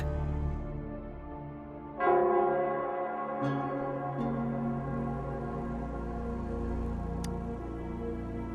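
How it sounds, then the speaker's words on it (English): The Nell Squares bell in the Wuthering Waves video game tolls once with a deep, resonant strike, then lets a long shimmering decay ring out over low ambient music, with a few fainter chimes following. "it's the Nell Squares bell"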